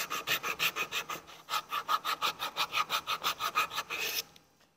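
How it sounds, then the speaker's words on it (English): Brisk rhythmic strokes of a sanding block scraping across wood, about five per second, close up, stopping abruptly near the end. "you can use your sanding block to go through the pieces"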